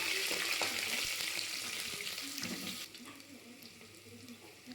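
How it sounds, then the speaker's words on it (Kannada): Whole spices and green chillies fry in a pan for a biryani, giving a steady, close hiss and sizzle that eases somewhat midway, with soft stirring clatter and no speech. "ಚೆನ್ನಾಗಿ ಫ್ರೈ ಮಾಡ್ಕೊಬೇಕು. ಆಮೇಲೆ ಹಸಿಮೆಣ್ಸಿನ್ಕಾಯಿ ಹಾಕ್ಕೊಬೇಕು."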